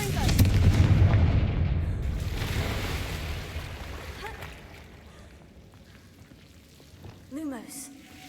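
A Confringo fire blast spell in Hogwarts Legacy erupts with a loud, rumbling burst that fades into a long, dwindling roar, followed by quieter ambient game sounds and a faint magical chime near the end.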